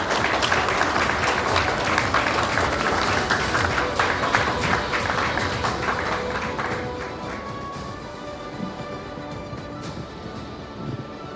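An audience at a televised News18 India Chaupal event claps to welcome Himachal Pradesh chief minister Sukhwinder Singh Sukhu, loud broad applause that gradually fades and thins in the latter half.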